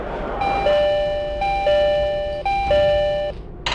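A loud electronic door-closing chime on a Yamanote Line train plays a repeating two-tone melody several times, ringing clearly over a low hum of the train interior.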